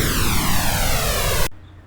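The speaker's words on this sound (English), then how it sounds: "a flanger is just how sound interacts with a copy of itself" Broadband noise mixed with a sped-up copy of itself, giving a flanger effect: a steady hiss swept by descending comb-like notches, loud and continuous, cutting off abruptly near the end.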